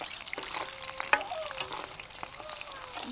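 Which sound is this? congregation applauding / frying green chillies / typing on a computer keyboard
frying green chillies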